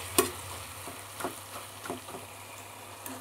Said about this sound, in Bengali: দেখো, এবার শুধু একটু নাড়াচাড়া করবো, ভালো করে নাড়াচাড়া করে নামিয়ে ফেলবো আমি।